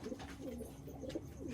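Big desi kagzi pigeons coo in short, repeated low phrases, about three or four soft rolling calls, faint and without any voices.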